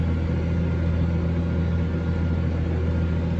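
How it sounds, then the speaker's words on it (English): A steady, low engine drone rumbles continuously at a constant level, a New Holland tractor working hard up close ploughing uphill with a six-furrow Kverneland plough, no voices. "It starts getting a bit tougher here, so you'll hear the revs in a minute will probably increase."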